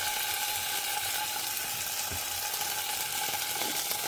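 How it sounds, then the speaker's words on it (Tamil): Tadka ingredients frying in a pan give off a steady, dense, crackling sizzle that fills the whole stretch evenly and close up, with no talking over it. "இது நல்லா பொரியட்டும். நல்ல கரக்கரான்னு பொரியணும்."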